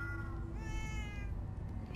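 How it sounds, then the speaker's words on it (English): Cats meowing in the video game Minecraft: Story Mode, a drawn-out cat meow over a steady, loud background hum, close and clear. "Oh, many cats, so many cats."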